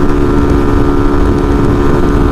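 An RPS Condor 150 motorcycle engine holds a loud, steady high-rev drone at highway speed around 8,500 RPM, with heavy wind rumble underneath and no break in the sound.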